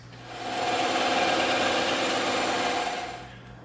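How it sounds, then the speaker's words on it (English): A bandsaw cuts a bevel through EVA foam in one smooth pass lasting a few seconds. The steady whirring rises as the blade engages, holds, then fades, with no talking. "we're going to take this over to the bandsaw and we're going to use this angle"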